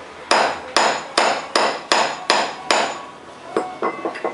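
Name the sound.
hammering on motorcycle engine part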